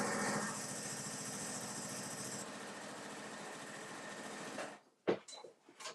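A sewing machine runs steadily as it stitches cotton fabric into a long tube, a close continuous whir that stops near the end and is followed by a few faint handling knocks.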